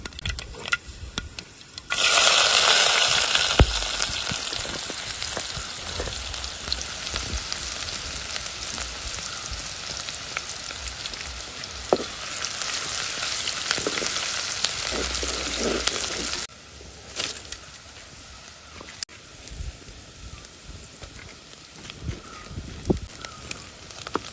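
Mustard seeds and chopped onion hit hot oil in a pan, setting off a loud, steady sizzle and crackle that swells at the start and eases to a quieter fry after about sixteen seconds, with occasional spoon scrapes.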